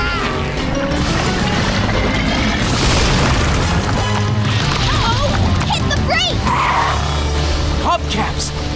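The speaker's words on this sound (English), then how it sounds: "Lava destroyed part of the bridge!" Cartoon crash and rumble as lava destroys part of a bridge in a Blaze and the Monster Machines race, booming impacts and crumbling debris heard loud under excited character voices and dramatic music.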